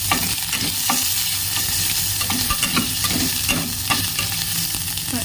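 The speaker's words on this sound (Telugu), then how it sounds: "ఈ యాడ్ చేసుకున్న అల్లాన్ని బాగా కొద్దిగా ఫ్రై చేసుకోవాలి." Chopped ginger sizzles and fries steadily in a hot pan, with a continuous crackling hiss and occasional scraping of a stirring utensil, close and fairly loud with no talking.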